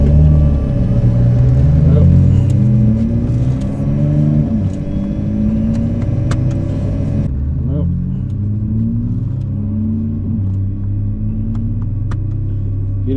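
A heavily modified Lamborghini Huracan, tuned to around 1500 horsepower, roars with a loud, deep engine rumble and rising and falling revs at Pocono Raceway, with voices heard over the engine.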